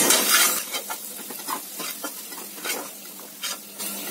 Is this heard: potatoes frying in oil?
yes